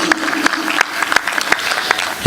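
A sparse smattering of audience applause at a political speech in India, thin and scattered claps with a few sharper hits, ending in one louder clap.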